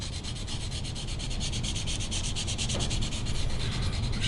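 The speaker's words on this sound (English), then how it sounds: "sometimes a little piece of sandpaper can go a really long way" Small piece of sandpaper rubbed steadily over a scratch on the side of a guitar, a continuous close hissing scrape that keeps an even rhythm for several seconds with no talking.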